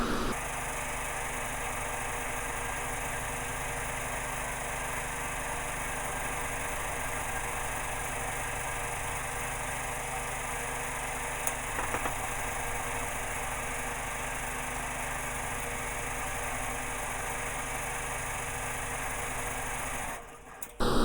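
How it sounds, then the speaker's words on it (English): A multi-needle embroidery machine stitches a design onto a hooped cap with a steady, fast mechanical whirring and buzzing hum. The sound holds constant and close for about twenty seconds, then cuts off abruptly near the end. "So now I will stitch the design."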